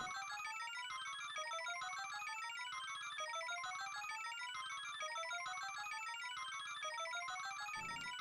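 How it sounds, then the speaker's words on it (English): A phone ringtone plays during a Super Mario Maker 2 Versus match, a bright repeating melodic chime cycling steadily and evenly throughout, with no talking over it. "Nice ringtone."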